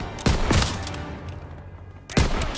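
Gunfire in Call of Duty: Modern Warfare: a few sharp, loud bursts of shots close by, a quieter pause with fading echoes between them, then another blast at the end.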